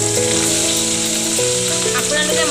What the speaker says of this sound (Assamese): আমি মাছ ফ্ৰাই কৰি আছোঁ